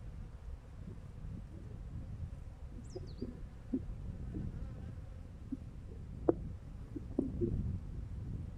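Honey bees buzzing around an opened beehive during autumn hive work, a steady low hum of many insects up close with occasional louder passes of individual bees and faint outdoor ambience.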